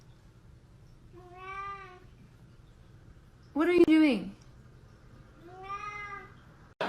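A cat gives two drawn-out meows, one before and one after a man's brief spoken question, close and clear over a quiet room background.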